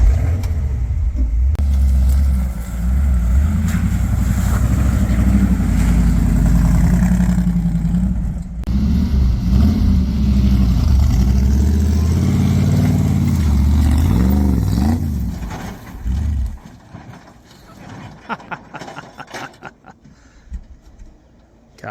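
A carbureted Ford Fairlane engine revs loud and close, the pitch rising and falling over a rough idle for about fifteen seconds before cutting off, leaving scattered quieter knocks and clatter.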